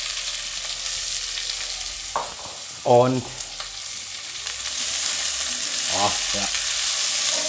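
Meat and onions frying for gyros, a steady close broadband sizzle running throughout, with brief spoken remarks in the middle.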